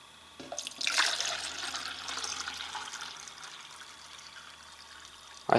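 Water pours steadily into a Stanley steel cup from a compact cookset, a splashy rush that starts bright and loud, then settles into a softer, even stream as the cup fills toward the brim, with no talking.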